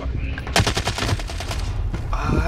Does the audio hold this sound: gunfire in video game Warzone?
yes